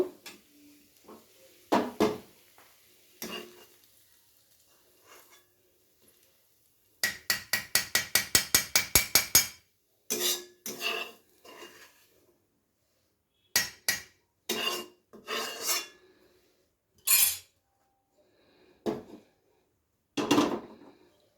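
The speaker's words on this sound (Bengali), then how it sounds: "আমি এটাকে এখন শিলনোড়ায় নিয়ে নিচ্ছি, এটাকেও বেটে নেব।" Fried onion is ground into paste on a stone grinding slab with a stone roller. Rhythmic scraping and knocking strokes come in short bursts separated by quiet pauses, close and fairly loud.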